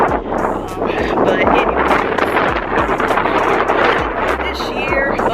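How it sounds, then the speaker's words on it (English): Heavy wind buffets the microphone in a steady, loud low rumble with gusty surges throughout. "It's a little windy out here, but it's not cold."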